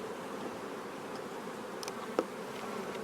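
Honeybees buzz around an open beehive in a soft, continuous hum at close range, with a brief knock partway through.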